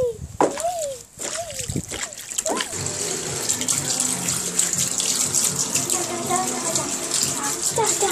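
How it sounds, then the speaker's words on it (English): Splashing, pouring water runs loud and continuous for most of the stretch, following a short burst of talk at the start. "I'm obsessed with splashing water."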